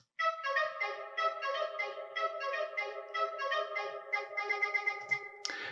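Musical theme from the Star Renegades video game, styled as a radio broadcast calling rebels to fight; a bright, bell-like melody of repeated plucked notes plays alone at moderate volume, ending with a short burst of noise.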